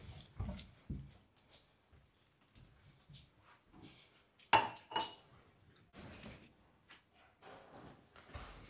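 A glass is set down among dishes with a sharp clink, followed by softer rattles of tableware, near and fairly quiet, with faint voices around it.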